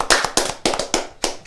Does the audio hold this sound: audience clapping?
yes